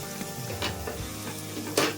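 Green chillies and a large onion sizzle and fry in a pan, a steady bright crackle with a few louder spits and stirring scrapes, close and alone.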